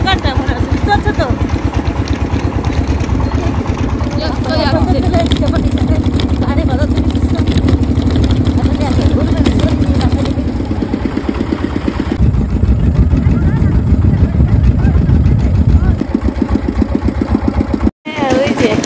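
A motor van, the local bhatbhati type, runs with a steady mid-pitched engine drone throughout while riding along, a rough continuous rumble close by, with talk over it.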